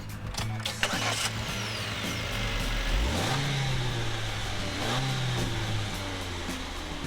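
A 2013 Chevrolet Spark's 1.2-liter four-cylinder engine hums at low volume, twice climbing in pitch as it accelerates over steady road and cabin noise, with no talking.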